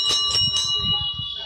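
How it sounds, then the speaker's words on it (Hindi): Temple bell rung during a Durga Ashtami visit, three bright metallic strikes in quick succession at close range, each leaving a ringing tone that sustains and fades over a low background murmur. "ओकर बाद ये देख घंटी बजा थी"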